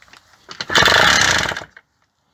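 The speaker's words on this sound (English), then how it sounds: "there's a hell of a knock, isn't there? Sounds like the crankshaft's about to give up on me" A Yamaha DT125R engine with a failing, knocking crankshaft bursts into a loud, rough rev for about a second, then sputters and dies into silence.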